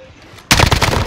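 FiReSaw gun in Call of Duty Warzone firing a loud, rapid burst that cuts in abruptly after a quiet moment and rattles on continuously to the end.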